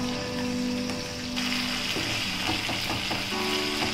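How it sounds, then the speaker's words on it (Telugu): Ginger garlic paste frying in about three tablespoons of oil in a pan, a steady dense sizzle with faint crackles, close and continuous without any voices. "బాగా ఫ్రై అవ్వాలి।"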